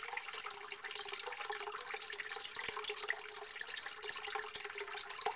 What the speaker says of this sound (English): Yeah, water's running pretty quickly